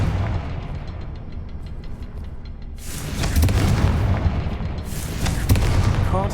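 A Confringo fire spell explodes in the Hogwarts Legacy video game: a run of heavy booming blasts and rumbling bursts, loud and close, with a second big burst near the end.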